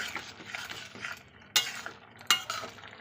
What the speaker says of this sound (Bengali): এইবার আমি সর্ষেটা দিয়ে দিচ্ছি সর্ষে বাটাটা একটু ভালো করে নেড়ে দেবো